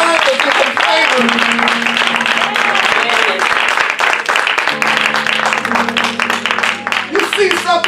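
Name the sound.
audience clapping and applauding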